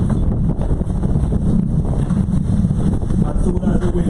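Heavy wind buffeting a microphone outdoors at a Father's Day picnic, a loud continuous low rumble and roar with gusty fluctuations, drowning out any other sound.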